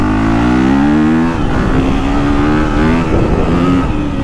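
A KTM 350 dirt bike engine revving close by, a loud buzzing four-stroke note that holds high, then drops and rises again in short blips.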